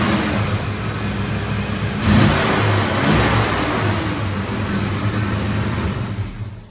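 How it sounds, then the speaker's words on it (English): A stock 5.0 Mustang engine idles steadily up close, with two brief throttle blips that swell the rumble around the two- and three-second marks before it settles back to a constant running drone. "Noah's going to start it up for you so you can hear it running"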